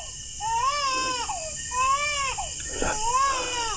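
A person imitates a baby crying, three wailing sobs in a row, each rising then falling, fairly loud and close against a steady high background hiss.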